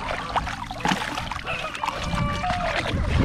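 A stream of water flows steadily near a riverside spot, a soft continuous gurgle and trickle with faint splashes running throughout.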